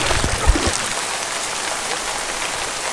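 Steady rain falls outdoors in Florida, a dense, even hiss of drops on surfaces that runs the whole time, with a brief low thump near the start.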